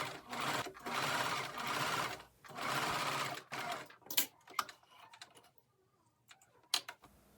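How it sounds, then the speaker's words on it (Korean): A sewing machine stitches the inner seams of a lace-trimmed denim dress in four steady bursts of rapid mechanical whirring, then falls quiet apart from a few light clicks and taps as the fabric is handled. "안쪽에서 먼저 봉제를 합니다."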